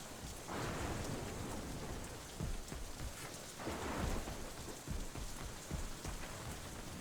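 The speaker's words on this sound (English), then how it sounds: "Look at the rain." Rain in the video game Crysis 3 falls as a steady, dense hiss of drops with soft low rumbles swelling now and then, heard alone with no talk.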